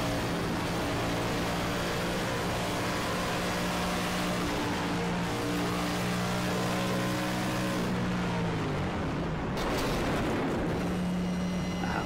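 A race car engine drones loudly and continuously in onboard audio at Auto Club Speedway, its pitch holding steady, then dropping as it shifts and climbs again near the end.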